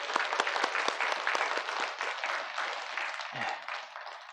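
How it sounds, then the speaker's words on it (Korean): A church congregation at an Easter resurrection service breaks into sustained applause, a full room of clapping with distinct sharp claps in front, steady for several seconds and then tapering slightly. "우리 사망 권세를 이기신 우리 예수님께 영광의 박수 올려드리겠습니다"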